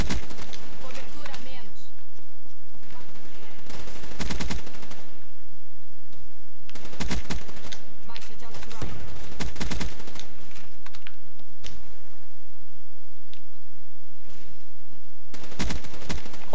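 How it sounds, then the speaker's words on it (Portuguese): Rapid bursts of automatic gunfire from the video game Call of Duty Black Ops 3 come in loud, repeated volleys separated by brief quieter gaps. "Que eu tô atirando e o cara me dá uma rajada."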